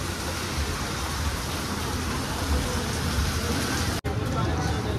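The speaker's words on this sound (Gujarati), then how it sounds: "કારણ કે વરસાદ બહુ સારો થઈ ગયો" Heavy rain pouring down during a flood in Upleta, a dense, continuous roar of falling water close by, with a brief dropout near the end and no clear talking.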